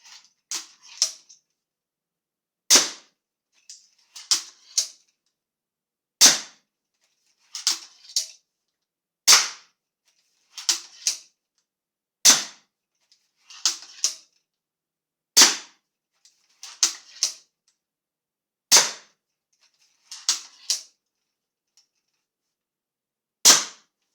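Tactical self-cocking repeating crossbow firing plastic shaft bolts from an X7 magazine, sharp loud snaps in quick clusters of two or three, each group followed by a pause and a brief mechanical clack, with near-silence between.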